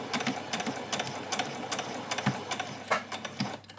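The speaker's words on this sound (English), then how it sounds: "now we're going to sew this bodice piece" A sewing machine stitching the bodice piece of a child's dress, with a close, rapid mechanical needle patter in short bursts and brief pauses, no voices.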